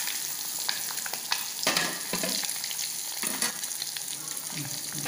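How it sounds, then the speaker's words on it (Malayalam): Vegetables, including capsicum, fry gently in oil for a vegetable biryani, giving a steady, soft sizzle with a few brief louder crackles and scrapes throughout. "ഒന്ന് പതുക്കെ തന്നെ എണ്ണയിൽ ഇട്ടിട്ട് ഫ്രൈ ചെയ്തെടുക്കാം."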